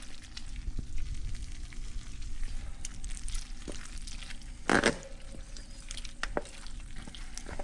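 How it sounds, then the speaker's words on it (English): Bacon cooks in a pan with a faint, steady sizzle and occasional sharp pops and crackles, heard quietly up close without talking. "That's the sound of it cooking."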